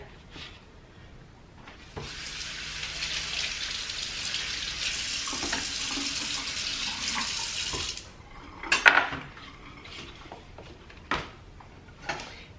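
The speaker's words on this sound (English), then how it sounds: "And now we're going to take our strawberries, wash up a few here." Strawberries rinsed under a running kitchen tap, a steady rush of water for several seconds that then cuts off, followed by a few close clinks and knocks of dishes at the sink.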